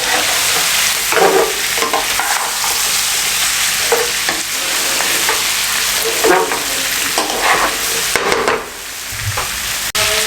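Fish biryani masala sizzles and fries loudly in a pan while a spoon scrapes and stirs it in repeated strokes, close and steady, with no talking over the cooking.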